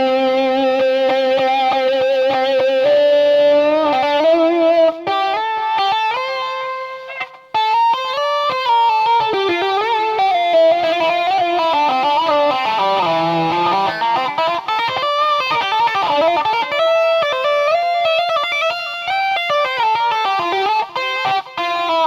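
Electric guitar solo through a wah pedal parked at its sweet spot and nudged slightly for motion, a continuous singing lead line with bends and sustained notes, loud and close with no talking.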